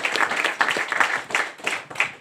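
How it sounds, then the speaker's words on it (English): An audience applauds at a live event, a dense, steady wash of many hands clapping together, close and fairly loud, with no talk over it. "I'd like y'all to give them one more round of applause."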